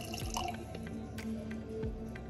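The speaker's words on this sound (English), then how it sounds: "we're gonna pour this glitter water in there" Glitter water is poured into a Disney Cinderella musical snow globe, producing quiet, close trickling and dripping with soft splashes over a low steady background hum.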